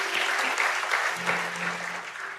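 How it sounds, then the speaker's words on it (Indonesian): A church congregation at an evening prayer service claps steadily throughout, a dense, continuous round of applause with a faint low hum beneath and no speech. "Tepuk tangan buat Tuhan kita."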